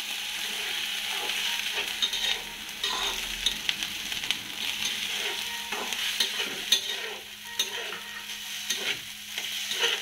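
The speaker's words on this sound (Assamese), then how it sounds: "এইখিনি ভালদৰে ভাজি ল'ম" Fish belly pieces frying in a pan while being stirred, a crackling sizzle with repeated scraping and clinking of a spatula against the pan, moderately close and continuous.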